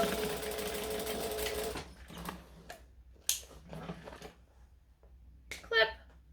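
A sewing machine stitching a dress alteration runs in a dense continuous burst, then stops, leaving short scattered clicks, rustles and a brief voice.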